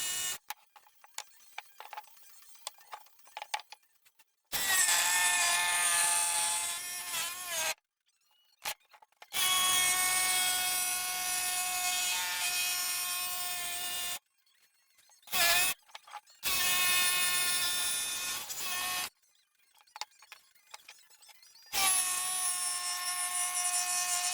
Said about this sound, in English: I'm just using a roundover bit on my router just to kind of take off that hard edge.